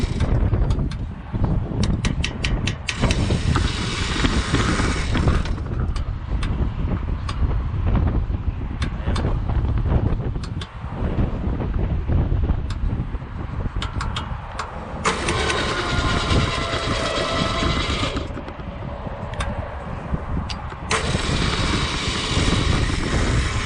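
A Farmall Super M tractor engine cranks and runs unevenly, loud and close, with rough repeated bursts of firing and changing engine note that surge and fade over a long stretch.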